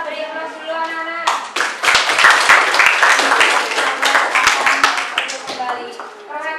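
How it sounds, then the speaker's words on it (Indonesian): Schoolchildren applaud together in a classroom, a dense burst of clapping that holds steady for several seconds before tapering, with a teacher's voice heard briefly before and after. "Kita beri aplaus dulu anak-anak"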